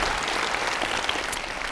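An audience at a lecture breaks into brief, dense applause, a continuous crowd of hands clapping at steady loudness.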